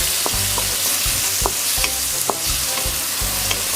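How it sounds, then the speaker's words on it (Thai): Holy basil and tofu stir-fried in a pan for a vegetarian Thai basil stir-fry, with loud continuous sizzling and a rhythmic scrape of the spatula about every half second, close up with no talk. "ใส่กระเพราที่เตรียมไว้ลงไปค่ะ ผัดให้เข้ากันนะคะ"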